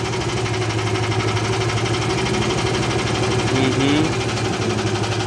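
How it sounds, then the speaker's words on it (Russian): A Borus 18.5 hp tractor idles with its cooling fan running, a steady loud mechanical hum with a rapid vibrating chatter and a slight swell of whirring partway through. "А, давай вентилятор попробуем."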